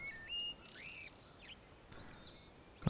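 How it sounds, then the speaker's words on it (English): Birdsong in the Log Away cabin-building game: a few thin, high chirps and whistled phrases, soft and somewhat distant over a faint hiss, pausing briefly between calls. "Got some pretty sing-songy birds again."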